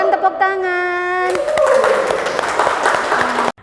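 Audience applause in a classroom after a group presentation on egg processing, a dense burst of clapping that rises after a spoken voice and continues steadily before stopping abruptly.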